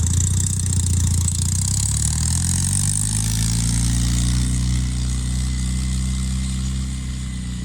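A small 18-horsepower mini tractor engine runs loudly and close up, its low chugging pitch rising and steadying as it idles and revs, with no voices.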